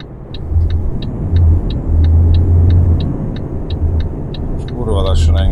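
A truck engine in Euro Truck Simulator 2 rumbles low and steady on a night drive, with a regular ticking like an indicator running over it and a voice coming in near the end.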